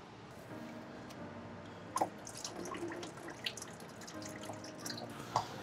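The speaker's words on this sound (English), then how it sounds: "I'm gonna undo this hose and let it drain out." Coolant draining from a disconnected hose on a BMW N54 engine, trickling and dripping with scattered splashy drops and a soft liquid gurgle, close and fairly quiet.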